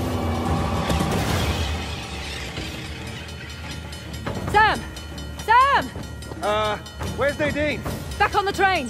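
Train in the video game Uncharted: The Lost Legacy rumbling along with metallic clanks and ratcheting mechanical bursts, loud and close, while voices shout in the background.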